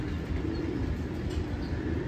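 Pigeons in a loft, among them White Mentar breeding birds, cooing softly and steadily over a low, constant background hum.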